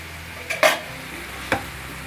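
Potatoes and spinach being stirred in a pan give two short scraping clinks, one after the other, over a faint background hiss, with no voices.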